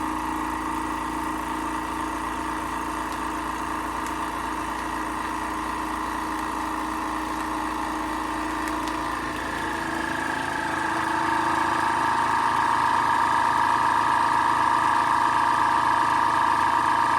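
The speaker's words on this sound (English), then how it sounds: "hit the vacuum seal function" A vacuum sealer on its moist setting hums steadily as it sealing a bag of two raw chicken breasts, its motor tone shifting and growing louder partway through before running on evenly.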